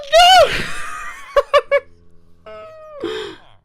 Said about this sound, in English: That scream continued for far longer. I had to cut it short.